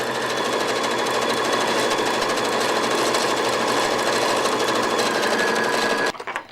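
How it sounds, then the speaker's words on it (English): A sewing machine runs steadily and loudly, stitching continuously along a long edge toward the next seam line for about six seconds before stopping abruptly. "So stitch all the way along to the next seam line."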